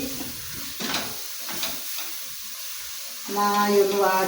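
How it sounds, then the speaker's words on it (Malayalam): Spices with pepper powder and turmeric sautéing in a pan for a prawn biryani masala, giving a soft continuous sizzle with stirring scrapes, turning louder and steadier near the end. "കുറച്ച് കുരുമുളക് പൊടി, കുറച്ച് മഞ്ഞൾപ്പൊടി, ഇത് 3 ഇട്ട് നന്നായി ഒന്ന് വാട്ടാം"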